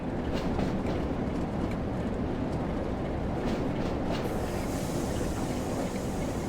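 Class 08 diesel shunter locomotive in Train Sim World at Blackpool North, a steady low engine rumble and rolling noise running continuously at even loudness, with no voices over it.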